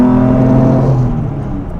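A restomod Jaguar E-Type engine pulls at full throttle, a loud steady roar with strong harmonic tones that swell and then ease slightly as it runs on, heard close from inside the car.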